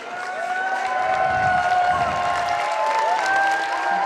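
A home crowd at a men's team foil fencing World Cup in San Jose claps and cheers in a warm, moderate wave that swells and settles, heard from a distance, with a faint commentator voice beneath.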